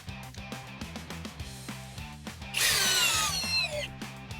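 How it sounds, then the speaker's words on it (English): A Cobalt XTR cordless drill set to speed 2 in drill mode drives a fastener into wood, its motor whirring with a rhythmic chatter that rises into a louder, strained high whine near the end. "Okay, Cobalt XTR is up. Speed 2, and in drill mode."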